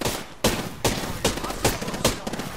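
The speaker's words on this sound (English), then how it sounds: "I am taking fire, friends." Rapid bursts of gunfire in a shooter video game, five or six sharp, loud reports spaced roughly evenly, close and dominant.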